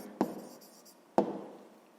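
A pen jots down a math answer, giving two brief scratchy strokes about a second apart, close and quiet.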